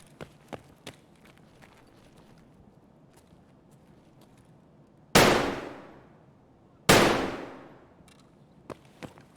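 Gunshots in the shooter Escape from Tarkov, two loud, sharp rifle cracks a couple of seconds apart, each trailing off in a long echo, amid quiet footsteps and small clicks.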